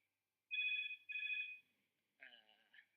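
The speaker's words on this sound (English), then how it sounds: "the phone's ringing" A telephone rings twice in quick bursts, fairly close, followed by a short, quiet sound of a voice.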